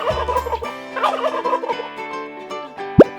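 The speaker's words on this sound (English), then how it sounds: "How does a turkey sound?" A turkey gobbles in a rapid, rattling burst lasting over two seconds, loud and close with no other sounds, ending in a short sharp call.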